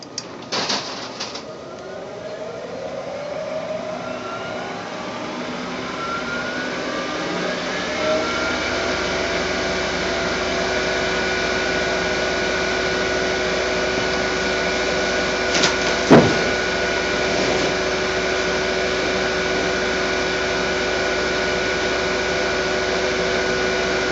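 A wood lathe runs at 1200 RPM while a half-inch bowl gouge turns a bowl from a log. It gives a steady, sustained whine with a tonal hum, and a few scraping cuts and clicks rise near the start and midway.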